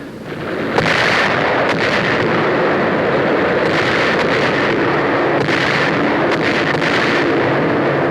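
A continuous loud rumbling roar of heavy bombs exploding in an air attack on Manila Harbor, with repeated sharp bursts breaking through a dense, sustained wall of explosive noise.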